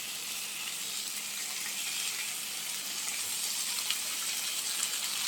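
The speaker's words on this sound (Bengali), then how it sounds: "আমি বাকি বেগুনগুলোও একইভাবে ভেজে নিব" Eggplant slices frying in a hot pan for a Bangladeshi begun bhorta, giving a dense, steady hiss of sizzling oil that holds evenly throughout, close up and without speech.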